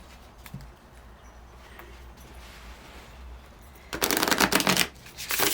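Stiff, gilded cardstock tarot cards of the Shadowland Tarot being shuffled by hand: quiet handling at first, then two short bursts of rapid, close riffling near the end.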